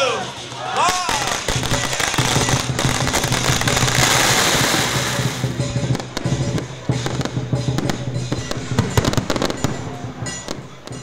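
Rapid crackling bursts of firecrackers pop over a noisy outdoor crowd at a Vietnamese Lunar New Year festival, with people talking throughout and sharper bangs near the end.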